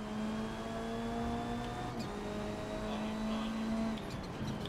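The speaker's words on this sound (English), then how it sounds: "Come on, car, pick up speed." A front-wheel-drive car's engine drones and holds a steady tone while accelerating in the racing game Forza Motorsport, loud and continuous, with a brief dip as the pitch shifts.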